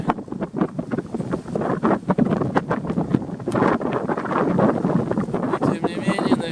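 Strong, gusty wind roars over an open outdoor spot where pigeons are flying, buffeting the microphone in a continuous, loud rush that swells and eases throughout.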